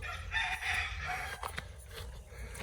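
Roosters crowing in a backyard poultry pen where a turkey attacks them, a drawn-out crow over a noisy outdoor background.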